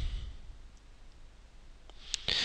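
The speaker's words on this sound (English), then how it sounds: "And then you click Next." A computer mouse gives a couple of quick, close clicks near the end of an otherwise quiet stretch with faint background hiss.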